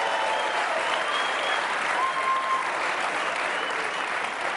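Studio audience at a Dave Chappelle taping breaks into sustained, dense applause, an even wash of clapping from a large crowd that holds steady throughout.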